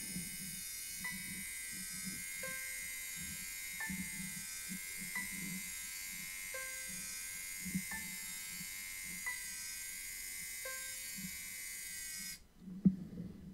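A small servo motor in a coded musician build whirs steadily for about twelve seconds, a constant buzzing hum with short electronic note beeps repeating over it, then it stops abruptly.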